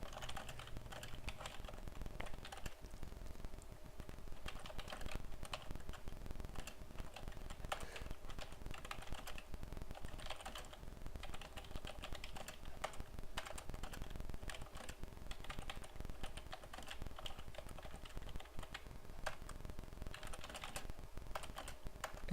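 Steady, rapid typing on a computer keyboard, with continuous soft key clicks at a quiet, even level and no talking throughout.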